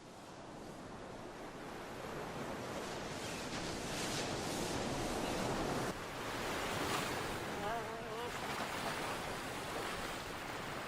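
Sea waves wash steadily against the coast in a continuous roar of surf mixed with wind, fairly distant, with swells rising and falling over several seconds and no voices.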